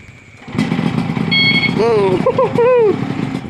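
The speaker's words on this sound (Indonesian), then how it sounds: "Starter remote." Yamaha RX King motorcycle started by a remote starter, a loud close engine rumble kicking in and idling, overlaid with short chirping tones and warbling voice-like sounds.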